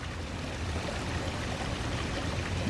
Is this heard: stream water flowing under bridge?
yes